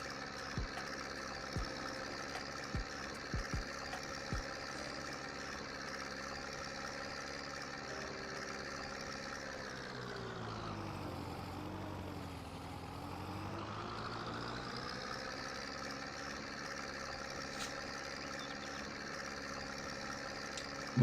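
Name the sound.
small tractor engine idling in Farming Simulator 22 video game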